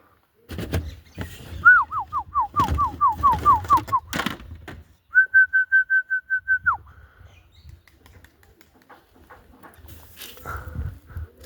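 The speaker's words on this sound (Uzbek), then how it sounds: "Qush." A bird calls nearby with a quick series of about ten rising whistled notes, then a sustained, even trill, over low rustling and handling noise.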